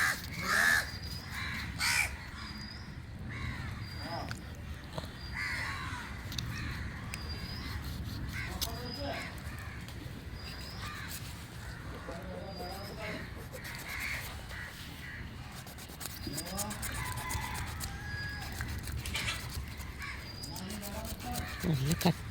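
Crows caw repeatedly around fish waste while a person talks nearby, the harsh calls recurring through the scene over steady background noise.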